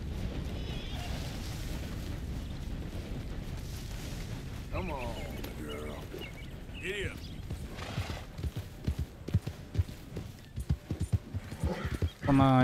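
Horse hooves clip-clop in Red Dead Redemption 2, irregular thumping steps that grow more distinct toward the end, heard beneath someone talking and game ambience.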